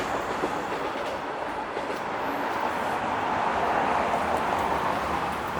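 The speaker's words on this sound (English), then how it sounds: "There goes a southbound train." A southbound train rumbles past in Midtown Toronto with a steady roar and faint clatter, building gradually and filling the whole stretch.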